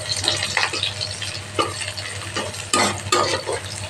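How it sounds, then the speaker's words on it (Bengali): Onion and garlic frying in a pan, a steady close sizzle broken by several louder scraping stirs, with a low hum running underneath. "তো পেঁয়াজ আর রসুনটা ভালো করে ভেজে নিচ্ছি।"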